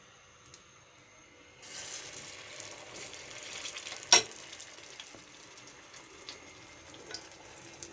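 Potato and flour snacks topped with black cumin powder frying in hot oil, a soft steady sizzle that swells after a quiet start, with one brief sharper crackle partway through.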